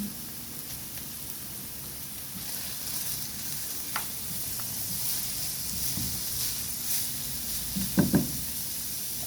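Chopped garlic sizzling in oil in a pan for pancit bihon, a steady close crackle with a few louder pops and clatters near the end.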